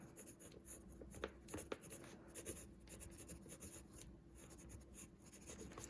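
A pen or pencil writes on paper in short scratchy strokes with a few sharper taps, quiet and close, with no talking.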